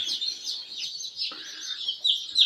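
Newly hatched Dekalb layer chicks chirp and peep continuously in a heated poultry house, a busy high-pitched chorus at moderate volume with no voices.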